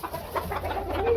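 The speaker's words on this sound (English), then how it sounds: "We have some bantam Cochins here." Bantam Cochin chickens on a small farm cluck softly in a short run of close, quick, low calls.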